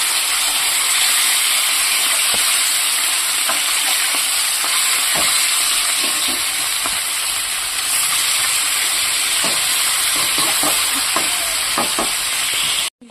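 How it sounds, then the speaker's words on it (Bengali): Potatoes frying in a pan of oil while cooking rui fish curry at home, a steady loud sizzle and hiss throughout with occasional soft clicks of stirring. "এই যে আলু ভাজছি"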